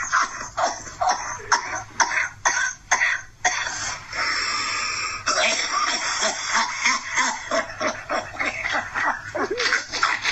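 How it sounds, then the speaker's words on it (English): A man coughs in a rapid, harsh series of bursts, then blows his nose loudly while still coughing, close and prominent. "Then he starts blowing his nose in the middle of coughing."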